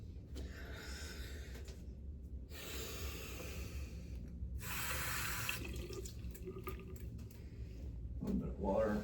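Tap water runs into a sink in short bursts while preparing to shave, with breathing and small wet squishing sounds close by between flows.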